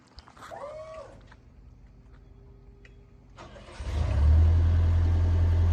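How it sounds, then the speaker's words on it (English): A 1999 JLG 600S telescopic boom lift with a Deutz diesel engine cranks and fires, a brief chatter of starter and a faint hum giving way to a loud, steady low diesel idle. "He's gonna fire it up."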